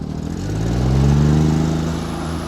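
A John Deere 322 lawn tractor engine runs at raised RPM, a loud steady mid-pitched drone that swells slightly and holds, heard alone with no talking.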